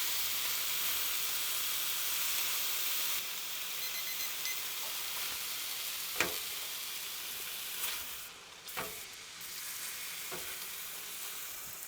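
Bison ribeye sears in a hot pan with a continuous close sizzle that softens after a few seconds, broken by several sharp clicks and knocks.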